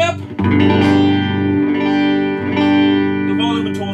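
A 1963 pre-CBS Fender Telecaster electric guitar on its neck pickup plays a few chords in succession, each struck and left ringing, warm and close with a slight swell and fade between strums.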